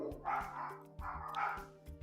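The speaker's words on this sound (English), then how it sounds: "I don't know if you can hear my dogs barking." Dogs bark and yip repeatedly nearby through an open home office door, sharp barks in quick clusters with whiny higher yelps between them.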